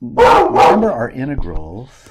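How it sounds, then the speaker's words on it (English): A dog barks twice in quick, loud succession nearby in a math lecture room, followed by someone speaking. "Sorry about the dog."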